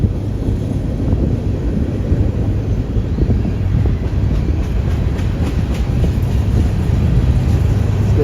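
A train rolls across an old wooden railway bridge in San Antonio, Texas, making a loud, continuous rumble with rattling undertones from start to finish, with wind buffeting the microphone.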